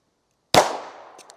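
A single loud handgun shot fired at close range: one sharp, sudden crack after silence, a ringing decay and a couple of faint metallic clinks.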